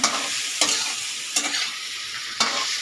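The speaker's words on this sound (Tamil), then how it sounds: "இது ஒரு ரெண்டு நிமிஷத்துக்கு நல்லா ஃப்ரை பண்ணிக்கலாங்க" Leftover rice mixture frying in a pan, a bright continuous sizzle broken by three or four sharp spoon scrapes as it is stirred, close and loud with no talking.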